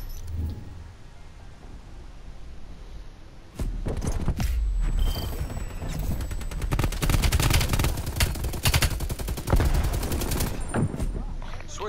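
Video game gunfire starts as a few scattered shots, then turns into dense, loud, rapid automatic bursts that continue to the end.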